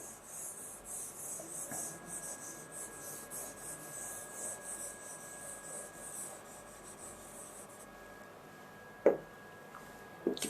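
Writing on a board, heard as soft, continuous rubbing and scratching strokes, faint and close, with a couple of sharper taps near the end and no speech.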